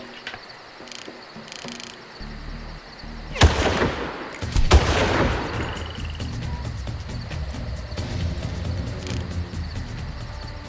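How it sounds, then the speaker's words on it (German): Sharp gunshot bursts from the video game Far Cry, a couple of loud cracks followed by lingering rumble over a steady buzzing, insect-like background. "Leider einen Schuss verschwendet."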